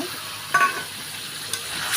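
Sizzling of spices frying in hot oil, a steady crackle with a couple of brief stirring clinks and scrapes.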